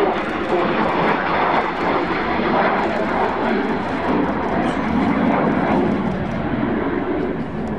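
A Messerschmitt Me 262A jet fighter flies past at an airshow, its engines giving a loud, steady roar that fills the air throughout with little change in level.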